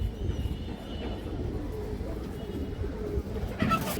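Feather-footed pigeons on a farm coo in low, throaty murmurs that keep going under a steady background hum, with a brighter, louder flutter of calls toward the end and no speech.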